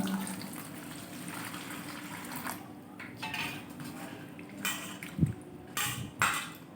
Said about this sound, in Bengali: প্রথমে সুজিটা আমাকে ভালো করে ধুয়ে নিতে হবে